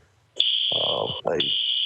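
A fire alarm sounds inside a building with a loud, steady high-pitched electronic tone that briefly drops out, while a person talks over it.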